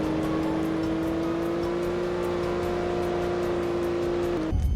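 Engine of the new Expeditioner car in Roblox Jailbreak, a steady droning hum with a constant pitch held for several seconds, then a brief shift right at the end.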